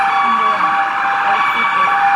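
A loud siren wails steadily and close by, its high, piercing tone holding on without a break.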